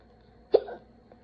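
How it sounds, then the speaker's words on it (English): A single sharp hiccup from a person, a brief close gulping catch followed by a short voiced trail, otherwise quiet. "Oh, I got the hiccups"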